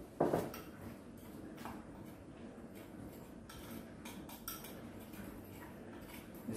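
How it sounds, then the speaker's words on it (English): A spoon clinks and scrapes around a bowl while stirring a Mexican spice mix, quiet intermittent taps and rattles with a sharper knock at the start, no talking. "we're now just going to stir the spice mix around"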